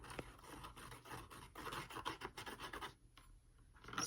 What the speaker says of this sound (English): Scraping, scratching.